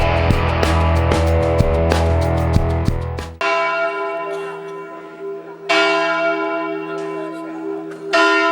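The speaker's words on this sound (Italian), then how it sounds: "Rintoccano le 10 a Gemona delle Friuli" A church bell tolls ten o'clock in Gemona del Friuli on a junior cycling race morning. Loud, ringing strikes sound close, each leaving a long humming decay that overlaps the next, and there is no speech.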